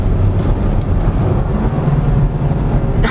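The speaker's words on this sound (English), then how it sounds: "There's engine braking in a CVT." A 2022 Chevrolet Trailblazer LT with a CVT engine braking: a low, steady engine drone with road rumble and wind noise inside the cabin, with no talking.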